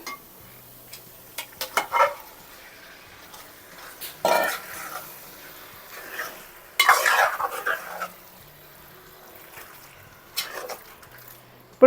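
Stirring prawn curry in a pan as prawns are added: intermittent scraping and clinking of a spoon against the pan in a few short bursts over a low sizzle, close and alone.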